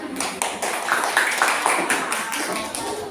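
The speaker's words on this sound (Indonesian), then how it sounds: "Ya, tepuk tangan" A group claps in a classroom after a presentation, with a steady patter of many hands at middling loudness that holds for about three seconds.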